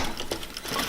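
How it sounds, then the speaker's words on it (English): A sewing machine back stitching underlining to the bodice of a lace gown, with a brief, steady mechanical whirring hum close by, alone with no talk. "We're back stitching right now the underlining to the bodice"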